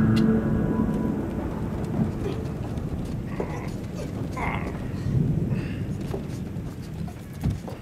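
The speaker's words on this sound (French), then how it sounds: "La tempête se lève." A thunderstorm, with steady rain hissing throughout and low thunder rumbling underneath, swelling briefly in a few places. No voices are heard.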